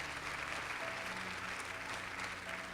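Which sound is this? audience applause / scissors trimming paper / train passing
audience applause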